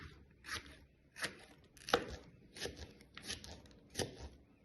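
A knife slices a small green pepper into rounds on a cutting board, making about seven crisp, close chopping knocks in an uneven rhythm with short pauses between cuts and no talking.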